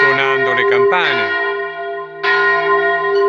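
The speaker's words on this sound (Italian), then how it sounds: "Stanno suonando le campane" Church bells ring in Braulins, a hamlet of Trasaghis, before mass, with strong, sustained pealing tones that swell and overlap, briefly thin out, then return at full strength.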